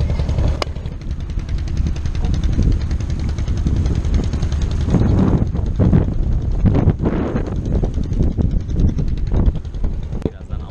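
Strong wind buffets the microphone beside choppy water at Akyaka, a steady broadband roar lasting throughout with bursts of gusting noise, under occasional speech.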